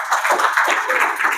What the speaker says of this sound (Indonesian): Beri aplaus buat 7 langkah.